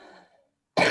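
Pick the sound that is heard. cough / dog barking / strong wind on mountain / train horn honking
cough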